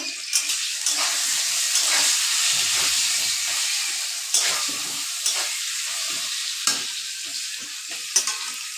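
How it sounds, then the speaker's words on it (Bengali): Potatoes fry in a pan with salt and turmeric, giving a loud, steady close sizzle broken by regular scraping stirs. "হলদি দিয়া ভাজা লমু"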